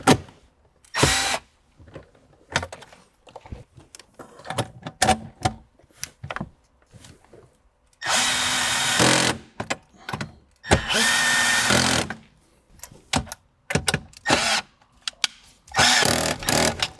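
A power drill secures 10mm bolts during a Toyota Sienna amplifier install, sounding in several short whirring bursts and two longer runs separated by pauses, with small handling knocks between them, close and loud.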